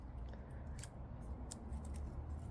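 Pruning shears snip at dahlia tuber stems with a few crisp, close cuts over a low, steady background.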